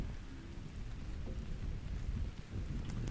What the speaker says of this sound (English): obviously raining right now.